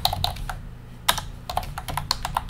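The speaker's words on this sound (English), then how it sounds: "I'm going to type in first name" Quick bursts of typing on a computer keyboard, close and clear, with uneven clicks coming in clusters and a short pause in the middle, and no voices.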